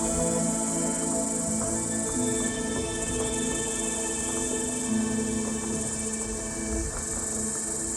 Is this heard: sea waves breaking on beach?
no